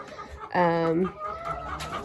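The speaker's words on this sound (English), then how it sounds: "We acquired like 40 new hens about a week ago, and we're keeping them in a coop for now" About forty newly acquired laying hens cluck inside a coop: one loud, drawn-out squawk from a nearby bird stands out over softer, scattered clucking from the flock.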